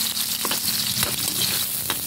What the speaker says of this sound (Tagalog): gisagisahin natin muna bawang, sibuyas,